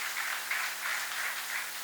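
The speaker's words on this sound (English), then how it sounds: "Please, a round of applause to yourselves." An audience at a national awards ceremony claps in a steady, moderate wash of applause that holds for the whole stretch, with a faint low hum underneath.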